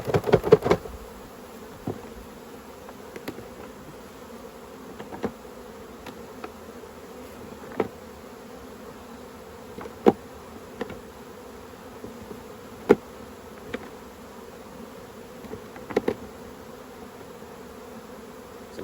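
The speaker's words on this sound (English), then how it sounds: "Shake as many bees out of here as we can." Honey bees hum steadily around an opened beehive during autumn beekeeping in the Orara Valley, a continuous close drone punctuated by occasional sharp knocks and clicks of hive frames.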